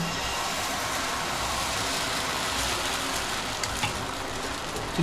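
Appam batter fries in an oiled pan with a steady, moderately loud hiss and sizzle, a continuous wash of sound with a few faint clicks and no speech.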